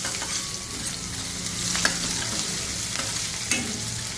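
Shallots and garlic sizzle in sesame oil in a pan for a Kumbakonam vatha kuzhambu, a steady close fry with a few sharp crackles and pops as the garlic bursts, plus occasional light stirring scrapes.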